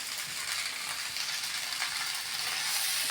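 Puli sadam with curry leaves being stirred in a pan, a soft steady sizzle with light scraping of the spoon, close and even throughout without any voice.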